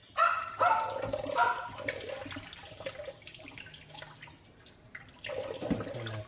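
Boiled meat is rinsed under a running kitchen tap, a steady close splash of water with louder bursts at the start and again near the end.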